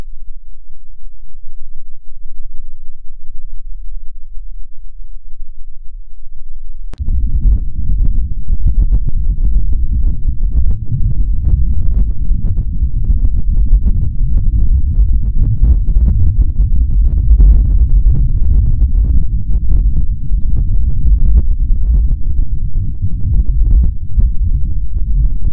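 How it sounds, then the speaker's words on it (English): Martian wind picked up by NASA's InSight lander on Mars, heard as a steady low rumbling buffet that starts faint and then swells into loud, continuous gusty roaring lasting over twenty seconds. "So here's what that Martian wind actually sounds like."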